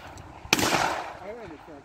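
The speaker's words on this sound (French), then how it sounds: "je vois qu'il tire deux fois" A shotgun fires at a compak sporting clay shooting range, one sharp outdoor crack followed by a decaying rumble, with people talking.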